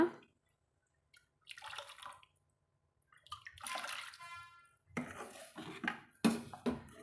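Water pours in several bursts into a cooking pot of drumstick-leaf soup, splashing and gurgling close by, with short pauses of quiet between pours.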